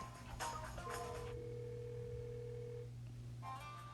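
Telephone sound effect in a radio drama, a caller phoning a school custodian: a steady electronic tone holds for about two seconds over a low hum, with brief bursts of other noise before and after.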